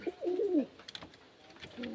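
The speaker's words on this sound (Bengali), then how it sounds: "খোপের ভিতর কবুতরগুলা লাফালাফি করতেছে।" Pigeons coo inside a coop in a low, throaty warble early on, then a few soft flutters and rustles as they hop about, with another quiet coo rising near the end.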